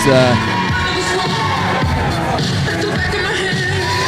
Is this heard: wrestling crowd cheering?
yes